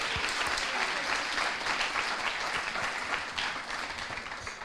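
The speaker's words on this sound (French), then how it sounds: "On peut l'applaudir, il va monter." An amphitheatre audience at an eloquence contest final in Le Mans applauds a finalist taking the stage, steady dense clapping throughout that eases slightly toward the end.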